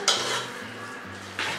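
A ladle stirs soft, well-cooked lentils for puran poli in a pot, giving a close, steady scraping swish with a brief brighter scrape near the start and another near the end, with no talking.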